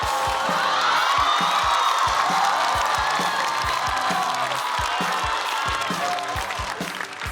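A studio audience at a Chinese stand-up comedy competition show gives a loud, steady round of applause with scattered cheers and whoops. The dense clapping holds throughout and fades slightly at the end.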